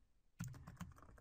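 Typing on a computer keyboard, a short burst of quick, close key clicks in an otherwise quiet room.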